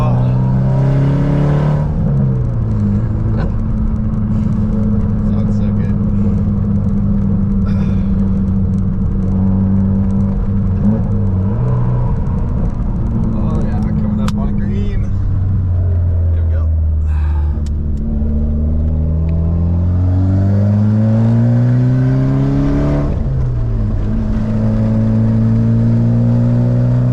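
A car with a catless ETS exhaust, an ACT flywheel and an Exedy clutch, driven and revved through the gears. Its loud, close engine drone rises and falls in pitch as it shifts, with a throaty exhaust rumble throughout.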